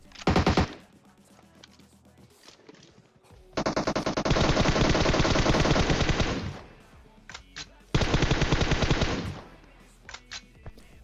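Bursts of automatic gunfire from PUBG Mobile, including a distant sniper exchange: a short burst, then two long sustained rapid-fire volleys separated by scattered single shots, loud and close, with no talking.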